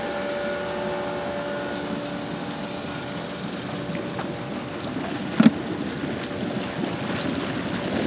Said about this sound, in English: Air blower. Go, baby.